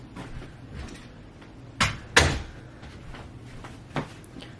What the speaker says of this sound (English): Just had to shut the door